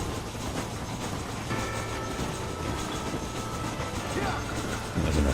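A train rolling along rails in the Red Dead Redemption video game, with a continuous loud rumbling roar and faint wheel clatter that swells slightly near the end.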